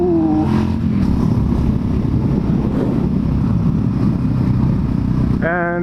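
A Yamaha XT660X motorcycle accelerates to overtake a bus on a mountain road, its engine loud and close, building over a steady rumble with wind noise and a sharp rev at the end.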